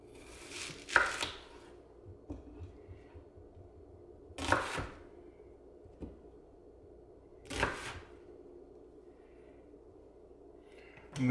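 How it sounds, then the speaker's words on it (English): A knife cuts through an onion on a board, trimming the ends and quartering it: three distinct thuds a few seconds apart with quiet gaps between, close by and with no talking. "I'm going to cut the ends off of it, and I'm going to cut it in quarters"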